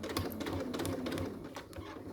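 A home sewing machine stitches slowly forward and back along a skirt seam, its faint, close mechanical chatter ticking in an even rhythm with soft needle taps.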